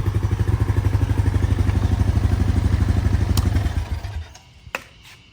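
A 1998 Honda Foreman 450S ATV engine idles close by with a fast, even thumping beat, then shuts off and sputters down into a couple of faint knocks and quiet.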